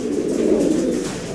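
Pigeons coo at a bird sale among pigeon fanciers in Florida, a close, loud, continuous low burbling with no talk over it.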